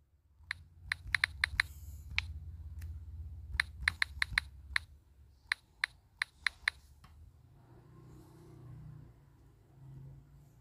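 Keystrokes tap out a password on a keyboard in short irregular bursts of crisp clicks, close and fairly loud over a low rumbling hum, then the typing stops and only the soft background drone remains.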